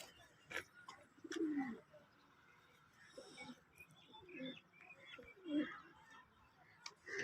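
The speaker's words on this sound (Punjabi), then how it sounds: "ਇਹਦਾ ਨਾਂ ਹੈ ਜੀ ਨਿੱਕੀ ਦੁੰਬ ਵਾਲਾ ਕਬੂਤਰ" A small-tailed pigeon cooing in soft, repeated low calls at close range, with faint background noise between the coos.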